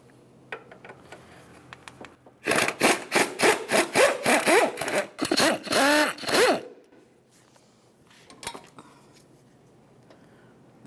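A 14mm wrench ratchets a bolt off the upper transmission mount plate of a 2003-2007 Honda Accord, giving a quick run of loud rhythmic rasping clicks, close up, then quiet with a few faint taps.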